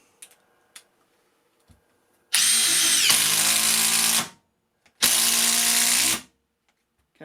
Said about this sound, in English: And finally, the third bolt setting,